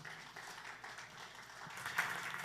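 Audience applause at a church gathering welcoming a guest speaker, a steady wash of clapping from a crowd swelling slightly toward the end.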